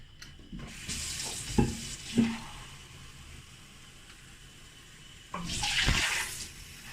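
Whole spices drop into hot oil for plain white rice, with a short sizzle and a couple of sharp knocks of a spoon on the pot. A quieter stretch follows, then a second burst of crackling near the end.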